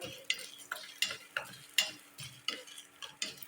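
Cumin and fenugreek seeds sizzle in hot oil, crackling softly beneath a spoon that scrapes and stirs the pan at a quick, repeated rhythm.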